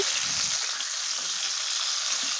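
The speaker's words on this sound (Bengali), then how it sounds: "হলুদ মরিচ দিয়ে লবণ দিয়ে আমি ভালো মাছটি ভেজে নিচ্ছি" Tilapia pieces coated with turmeric, chili and salt fry in hot oil, giving a steady, close hiss and sizzle with no talking.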